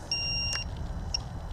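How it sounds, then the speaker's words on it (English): A Wizard X220 racing drone's beeper gives a few short high electronic beeps over a low background rumble, fairly faint, with no talking. "So we're going to stop the beeping."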